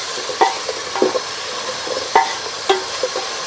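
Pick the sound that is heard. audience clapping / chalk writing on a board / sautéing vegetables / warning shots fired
sautéing vegetables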